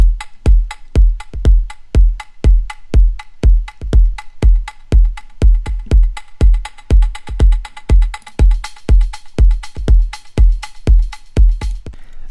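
Organic house drum loop with a steady four-on-the-floor kick and crisp percussion, its bit-crush redux, reverb and delay effects automated to swell toward the end of each bar, played alone with no talking.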